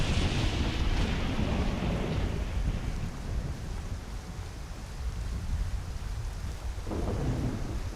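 A heavy thunderstorm with steady rain pours down outside an inn, a dense continuous roar with low rumbling thunder and gusting wind, no voices.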